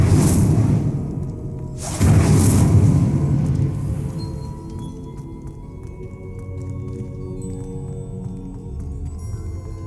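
An Incendio fire spell is cast in the video game Hogwarts Legacy: two loud whooshing fiery bursts with a deep booming body, fading into a low roaring rumble with faint high tinkling, and no talk.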